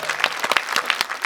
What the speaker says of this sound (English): Give a big round of applause for yourselves.